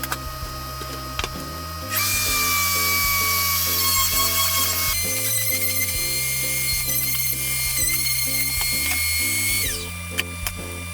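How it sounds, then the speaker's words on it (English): Router table spinning up to round over drilled holes in a cedar garden sign, a loud high whine cutting in sharply, holding with shifting pitch as the bit bites the wood, then winding down, over steady background music. "Now I use the router table in order to round over those holes that we just did."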